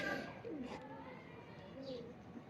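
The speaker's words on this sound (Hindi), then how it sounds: "ये कबूतर, ये असल कबूतर है।" A Teddy King pigeon gives soft, low coos, quiet and close, with a faint voice speaking in the background.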